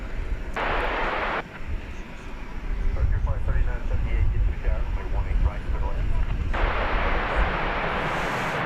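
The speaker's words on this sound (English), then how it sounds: "Coming in from Fort Myers, Florida, American Flight 2736. It'll be a 737-800" An American Airlines Boeing 737-800 arrives at DFW Airport at night, its jet roar rising into a loud, broad rumble, with a voice talking over it near the start.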